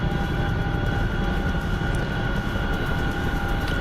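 A steady, loud, droning engine roar from a Chinook twin-rotor helicopter in a flight video game, holding an even tone throughout with no talking.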